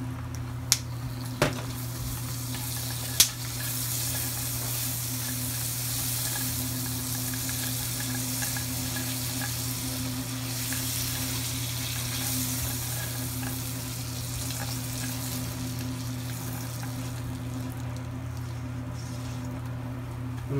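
Butter goes into hot caramelized sugar with almonds after the heat is switched off, giving a steady, close sizzle with a few sharp knocks of the stirring utensil near the start.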